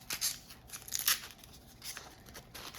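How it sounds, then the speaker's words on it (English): Papery husks being peeled off fresh tomatillos, a close, quiet run of crinkling and tearing rustles in irregular bursts with no talking. "So super easy to peel them."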